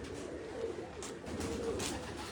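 Pigeons on a rooftop give soft, faint, low cooing in a few rolling phrases over light background noise.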